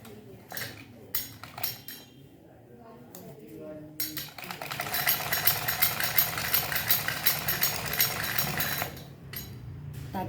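A sewing machine runs a steady, fast stitch line as a reinforcing seam goes across a pajama pocket. The whirring and rattling hold up for several seconds, following scattered clinks and handling noises.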